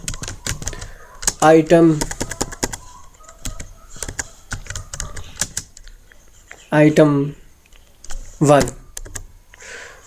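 Rapid keystrokes on a computer keyboard while entering data into an Excel spreadsheet, steady clicking throughout with someone speaking Hindi-Urdu in short bursts over it.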